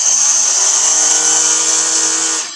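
A cordless battery-powered grass cutter whines steadily at high speed while cutting tall grass, a loud continuous motor drone with no talk, cutting off just before the end.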